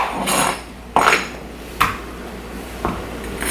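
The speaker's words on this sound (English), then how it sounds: "I'm going to cut off the tops, and this one started to get yellow." A knife chops the tops off bitter melon on a board, three or four sharp distinct knocks spaced apart, near and fairly loud over faint background hiss.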